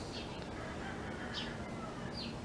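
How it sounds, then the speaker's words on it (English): Chickens cluck in the morning, a few brief calls sounding faint and distant over a quiet outdoor background. "It's the morning"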